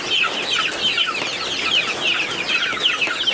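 Chickens cluck and chatter on a small farm in rainy weather, a close, steady stream of overlapping bird calls with no one speaking.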